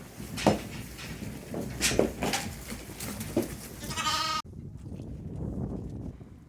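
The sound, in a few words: sheep and lambs bleating during lambing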